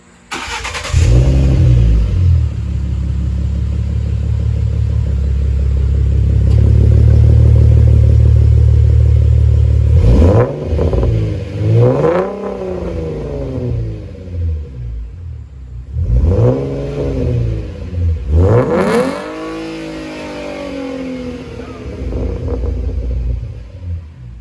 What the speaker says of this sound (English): here's new exhaust sound. I believe it's a cold start now